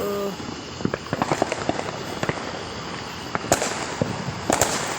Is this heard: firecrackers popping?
yes